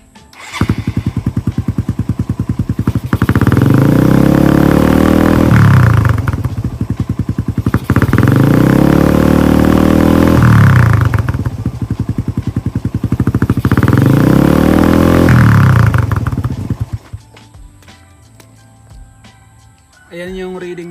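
A Raider 150 motorcycle with an APIDO v3 pipe and no silencer revs hard three times, each loud rasping burst rising and falling back. It then drops away into quieter clatter at the end.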